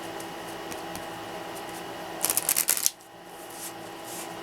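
A Lenormand oracle deck is shuffled by hand, giving a short burst of crisp riffling card flutter lasting about half a second, close and fairly loud against a quiet room.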